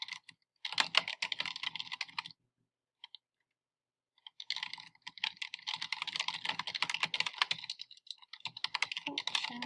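Someone types a long comment on a computer keyboard in close, quiet bursts of rapid key clicks, pausing for about two seconds midway before the typing resumes steadily, with no talk.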